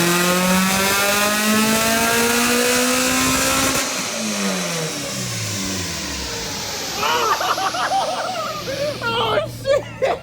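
A 1990 Honda Civic SI hatchback with a B20 VTEC engine revs hard on a dyno, its pitch climbing steadily before it drops off, with excited voices shouting near the end.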